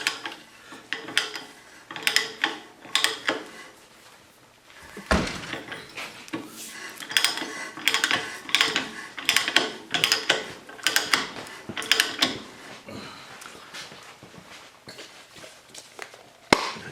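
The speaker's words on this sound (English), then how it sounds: "This is a hand threader. You slide it over your pipe. It ratchets." Rothenberger hand pipe threader being ratcheted around a pipe, giving repeated close metallic clicks and grinding bursts in an uneven rhythm with brief pauses, fairly loud throughout.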